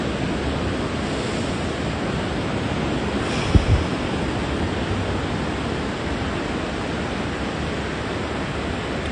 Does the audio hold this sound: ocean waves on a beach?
yes